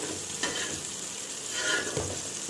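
Fresh young jackfruit fries in a pan with a soft, steady sizzle, and stirring scrapes come through in a few distinct strokes at close range.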